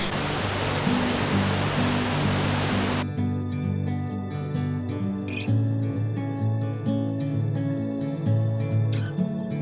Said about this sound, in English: Waterfall comes shooting out of the rocks.